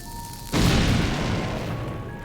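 A bomb blasting open a cracked dungeon wall in the Switch remake of Link's Awakening: a single sudden loud boom that cuts off a soft tone, then a long rumbling decay with no talking.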